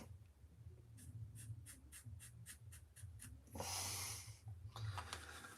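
Pen or marker strokes drawn over tape on a woodcarving piece: a regular run of short scratchy strokes, close and fairly quiet over a low background hum, ending in a longer rougher rubbing passage.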